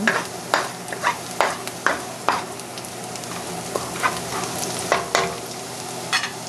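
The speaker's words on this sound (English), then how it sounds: "Now we're going to wait for the garlic to turn a little brown." Garlic frying in oil in a wok on medium-high heat for pad thai, a steady sizzle broken by regular sharp scraping knocks of a spatula against the pan, close and fairly loud.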